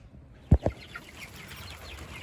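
A bearded chicken gives two sharp, close clucks in quick succession, then quiet rustling follows with no one talking.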